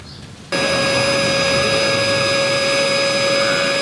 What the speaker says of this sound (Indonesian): Ini uji coba vakum tuh kayak gini.